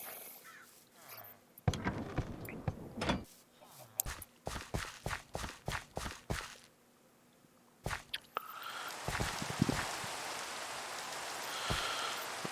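Rain falling in the video game Minecraft, a broad hiss of raindrops mixed with irregular footstep-like taps and brief bursts, growing fuller and steadier near the end.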